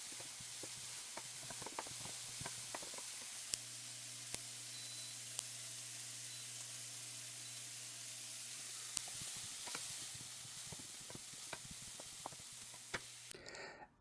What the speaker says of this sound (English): Add diced onions and cook for 3-4 minutes until slightly soft.